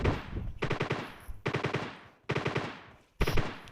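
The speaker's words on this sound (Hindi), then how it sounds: "मैं उसे फायर देता हूँ" Bursts of gunfire from the mobile battle royale game PUBG Lite, three or four separate volleys of rapid shots with short silent gaps between them, loud and close with no talking.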